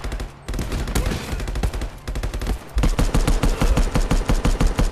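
Rapid gunfire in a modded VR shooter, loud repeated shots in a fast steady rhythm after an opening volley, close and dominant with no talk over it.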